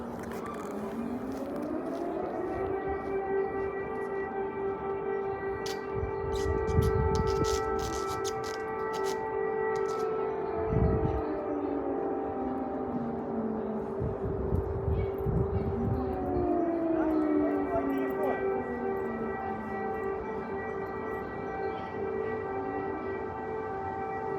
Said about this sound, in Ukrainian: лунає повітряна тривога